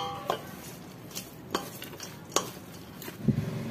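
A spoon stirs rabbit dinakdakan with mayonnaise and liver in a bowl, giving a few separate clinks and scrapes against the dish over a low background hiss, close and fairly quiet.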